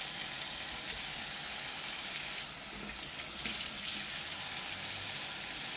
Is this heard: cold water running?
yes